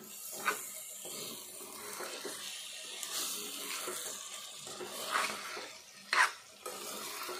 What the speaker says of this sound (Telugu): ఇది కలుపుకుందాము.